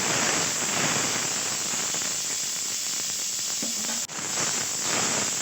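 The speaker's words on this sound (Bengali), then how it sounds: "দিলাম টমেটো আর পেঁয়াজ আর রসুনটা ভালো করে একটু আমি তেলের মধ্যে ভেজে নিচ্ছি" Tomato, onion and garlic fry in oil with a steady, close sizzling hiss that dips briefly near the end.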